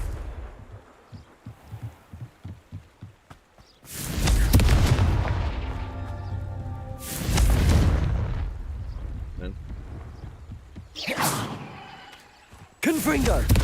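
Confringo fire-spell explosions in Hogwarts Legacy, several loud booming blasts with rumbling decays and one sharp final burst, mixed with game effects and heavy speech throughout.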